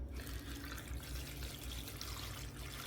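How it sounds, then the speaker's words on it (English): Water from a tap runs steadily into a slow cooker holding beef bouillon and butter, a soft, close trickle that does not change over a few seconds. "Final ingredient, I have some water."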